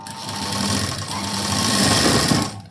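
A sewing machine stitches a puff sleeve with a loud, fast, steady mechanical whirr close by, running continuously for a few seconds before slowing to a stop.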